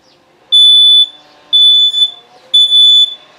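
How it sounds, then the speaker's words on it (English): Three loud, piercing electronic beeps from a malfunctioning home smoke detector, each about half a second long and evenly spaced, close to the device with no talking. "This is why you clean out your smoke detectors."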